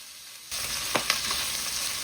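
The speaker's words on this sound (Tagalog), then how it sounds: "Kapag mainit na yung ating mantika, ilagay na natin yung pork." Pork pieces drop into hot cooking oil, setting off a loud, steady sizzle after a quiet start, with a couple of brief spatters riding over the close frying hiss.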